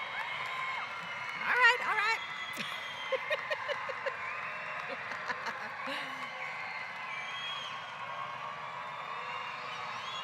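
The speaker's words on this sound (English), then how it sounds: "if you are here to cheer on your children, can you make some noise?" A graduation commencement crowd in the stands at Delta College whoops and cheers for their children, scattered and fairly distant, with a short burst of shouting amid clapping while a voice speaks briefly.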